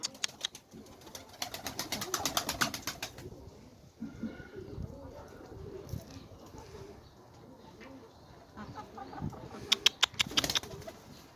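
Blue flying pigeons coo softly, with bursts of rapid wing flapping near the start and end of a loft scene, against a low background murmur and faint voices.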